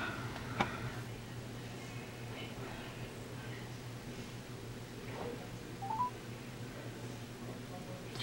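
Faint electronic touch-screen tones sound from a Buick IntelliLink system while placing a phone call, a few short beeps over a steady low cabin hum.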